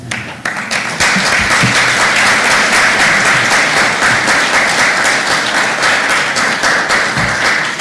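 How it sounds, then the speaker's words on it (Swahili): Audience applause at a Magereza SACCO top savers workshop and training: a dense, sustained wash of many hands clapping, loud and steady after a brief ragged start, with a few faint voices underneath. "Piga makofi vizuri, utakuwa mkubwa pia siku moja."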